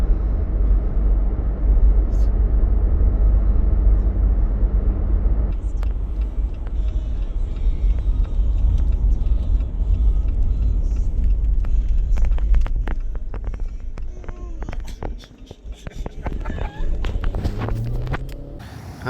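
A car driving on a road in Florida near Kennedy Space Center, heard from inside as a steady low rumble of engine and tyres with scattered small ticks and knocks, the noise easing briefly near the end.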